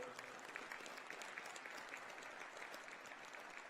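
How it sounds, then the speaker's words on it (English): An audience at a curling event applauds the host committee and volunteers, a steady wash of clapping from a crowd that holds through the whole stretch without pause. "You get a round of applause for them."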